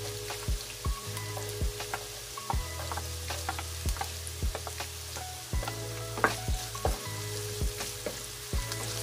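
Onion fries in a pan for an adobo of chicken liver and gizzard, giving a steady moderate sizzle with repeated sharp spatula clicks and scrapes against the pan, over soft background music.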